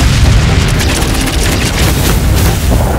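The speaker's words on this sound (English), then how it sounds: "Railguns, fire!" Railgun batteries fire from a warship in the Battlefleet Gothic: Armada space-combat game, heard as a dense, loud roaring boom with crackling bursts that fill the whole short stretch without pause.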